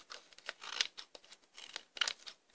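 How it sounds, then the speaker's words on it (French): Pointed scissors trim excess material from a handmade DIY brooch in a series of quiet, close crisp snips and small rustles, irregularly spaced with a couple of sharper cuts. "Donc vous pouvez prendre un ciseau un petit peu plus pointu au bout pour être un petit peu plus précis."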